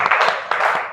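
Students in a classroom give a brief, loud round of applause, a dense burst of close hand claps with a slight dip in the middle.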